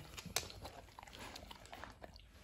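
A dog eats a crepe with whipped cream close by, giving soft wet chewing and smacking with one sharper crunchy bite near the start, quiet and irregular.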